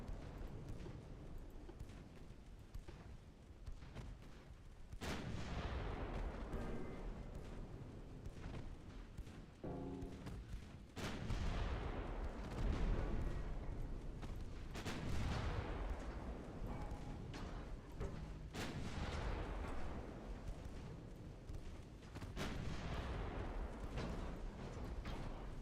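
Naval guns firing in the warship game Ultimate Admiral Dreadnoughts boom repeatedly at irregular intervals, heavy low blasts with rumbling tails over a constant background, fairly faint overall.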